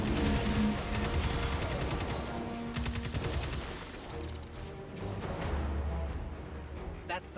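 Rapid automatic weapons fire and explosions rattle through a Destiny 2 firefight, a steady dense barrage with bursts of shots, mixed with game sound and under faint voices.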